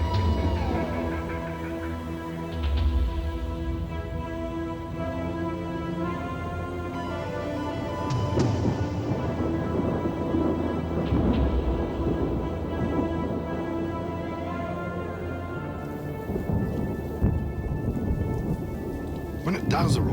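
An afternoon wet-season thunderstorm in the Australian countryside, with steady heavy rain drumming on surfaces and repeated deep thunder rolls building and fading throughout.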